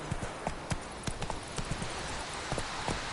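Hooves of Roach the horse in The Witcher video game clop in an uneven trotting rhythm on hard ground, close and clear over a faint background hiss.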